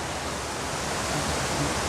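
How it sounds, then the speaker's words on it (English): River water cascades over rocks at Noisy River in Manchester, Jamaica, heard as a steady broadband rushing roar, constant and fairly loud, with no talking. "the water is just cascading over the rocks"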